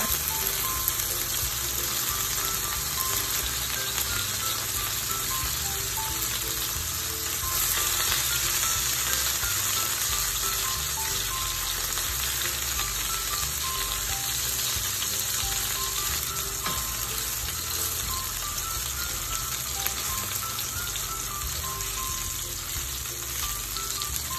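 Chicken for a creamy mushroom chicken dish frying in a pan until golden brown, giving a steady, dense sizzle and crackle that runs unbroken throughout with no talking.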